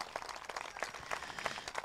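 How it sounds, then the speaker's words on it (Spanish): Crowd applauding the governor at a public government program event, faint continuous clapping heard from a distance. "me acompañan a brindarles un fuerte aplauso a nuestro gobernador, Diego Sinué"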